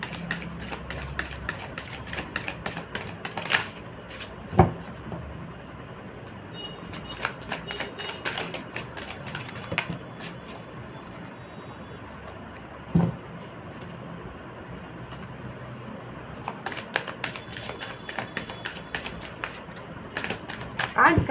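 Tarot-style reading cards being shuffled by hand in clustered bursts of quick, crisp riffling flutters with pauses between, close and fairly quiet, while a person speaks softly throughout.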